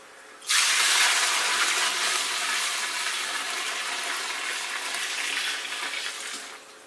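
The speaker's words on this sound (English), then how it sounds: "adding the hot wort back" Hot wort for a home-brewed English bitter poured into a fermenter, a sudden steady rush of splashing liquid close by that runs for about six seconds before tailing off.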